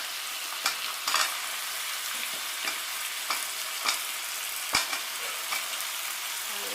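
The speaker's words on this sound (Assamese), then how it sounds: "এতিয়া মই কচু দিছোঁ" Taro and pumpkin fry in a pan with a steady bright sizzle, broken by occasional soft clicks and scrapes of stirring, close and continuous with no talk.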